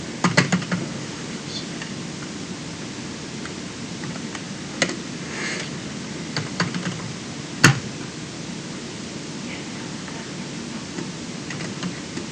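Computer keyboard typing with a key that sometimes sticks: scattered soft key clicks and occasional louder taps over steady background hiss, fairly quiet and continuous for several seconds, with no voices.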